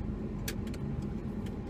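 Pickup truck engine droning steadily while driving on a road, a continuous low rumble with cabin road noise and a few faint clicks, no talking.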